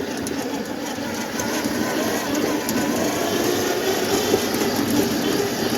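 A small Cub tractor is driven along a path. Its engine gives a continuous rattling rumble, steady and moderately loud, with no talk.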